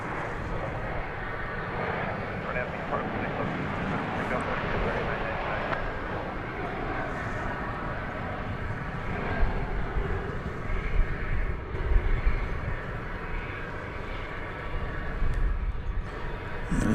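A jet airliner bound for Cleveland taxis at Dallas/Fort Worth airport, its engines giving a steady broad roar that swells slightly midway, heard from a distance under ongoing commentary.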